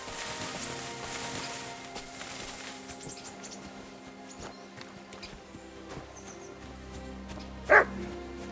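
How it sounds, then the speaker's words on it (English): A dog barks in the medieval game Kingdom Come: Deliverance II amid light ambient clatter, with one short, sharp bark standing out loudly near the end. "Barking. He's coming from over there."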